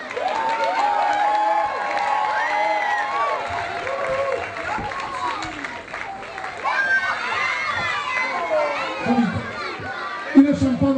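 A crowd in a town square celebrating a women's basketball championship applauds and cheers, with shouts, chatter and voices mixed in throughout, building near the end with a few louder bursts.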